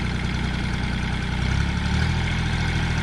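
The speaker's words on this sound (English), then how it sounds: "Now he's going to climb up onto the tractor, and the motor's going to rev because he's going to be lifting his bucket." A tractor engine runs loud and close with a steady low rumble, its pitch shifting and rising slightly partway through as it revs to lift its bucket.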